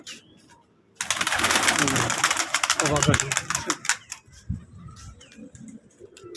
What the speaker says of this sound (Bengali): এই দেখেন বাড়ির কবুতর সব